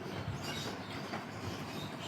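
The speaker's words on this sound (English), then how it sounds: "We are going on a train ride." A train rolls along steadily, its continuous broadband rumble and rail noise carrying a faint clickety-clack, fairly loud and unbroken with no voices.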